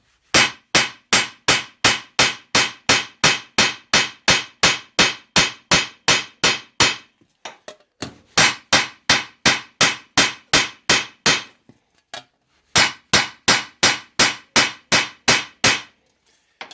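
A hammer strikes tin sheet metal while flanging it into a duct elbow. Loud, evenly spaced ringing blows come in rapid runs of about ten to fifteen, separated by brief pauses.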